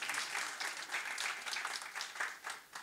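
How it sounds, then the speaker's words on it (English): An audience at a startup conference session in San Francisco applauds for Burak, a continuous, moderately quiet spread of many hands clapping that swells and dips slightly. "You can clap if you want. Clap for Burak."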